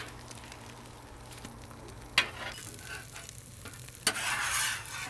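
A stromboli cooks in a pan with a soft, continuous sizzle, quiet and close, broken by two sharp clatters and a louder burst of frying near the end, with no talk.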